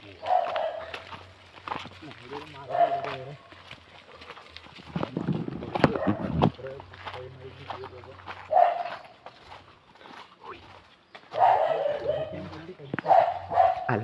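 A dog barks at a house, with short repeated woofs and yips heard off and on. The barking runs between and under steady talking from people nearby.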